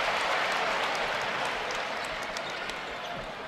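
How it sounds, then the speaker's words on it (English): Basketball arena crowd at a Michigan versus Purdue game cheering after a missed three-pointer, a broad, loud roar of applause and voices that slowly fades over a few seconds. "Crowd gave him a cheer even though that three did not go"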